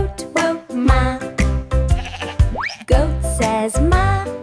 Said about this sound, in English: Goat says ma.